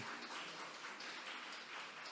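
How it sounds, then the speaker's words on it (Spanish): Faint, steady applause from a church congregation during a Spanish-language service, a soft continuous patter heard from a distance without distinct individual claps. "Dime un fuerte aplauso."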